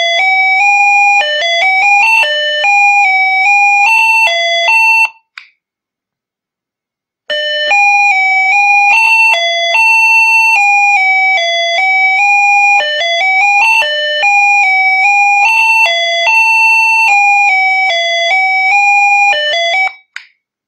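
A homemade musical doorbell circuit plays a loud electronic melody through a 3-watt speaker, bright beeping tones running in a repeating tune, pausing for about two seconds, then starting again with no talking.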